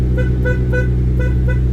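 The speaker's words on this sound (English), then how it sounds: "And the horn works." Horn of an Audi 8J TT being tested, sounding in five short, evenly spaced toots over a steady low engine hum, close and loud.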